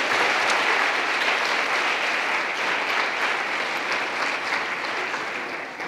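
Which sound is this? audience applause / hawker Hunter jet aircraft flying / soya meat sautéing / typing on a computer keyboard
audience applause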